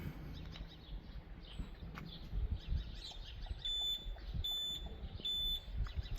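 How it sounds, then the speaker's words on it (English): A Cobra 4822 car alarm fitted to a Toyota RAV4 gives three evenly spaced high electronic beeps, warning that a window has been left open, over low background rumble and faint chirps. "that's beeping 3 times to warn me I've left the window open"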